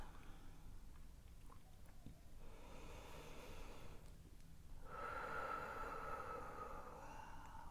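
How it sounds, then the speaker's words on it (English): Slow, deep breaths during a gentle floor stretching exercise: two long, airy inhale-exhale cycles, close and soft, with no talking. "Couple of breaths."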